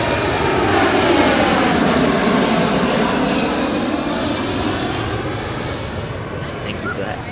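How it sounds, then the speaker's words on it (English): A Boeing 737-800 jet airliner's engines roar loudly and steadily overhead as it lands, a broad rushing drone that slowly fades as the plane passes. "here you go, the Boeing 737 from Alaska Airlines."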